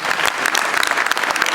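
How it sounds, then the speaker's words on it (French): An audience applauds Hubert Reeves and Daniel Casanave at a live talk with drawing, a short, dense burst of many hands clapping steadily at close range with no voices. "Je vous demande encore d'applaudir Hubert Reeves et Daniel Casanave."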